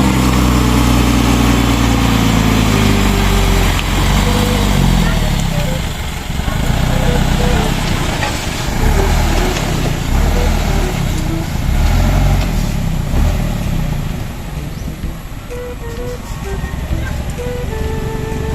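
Loaded dump trucks run while filling a road, engines idling and revving in a steady mid-range drone, loud and near, with people talking over the engine noise.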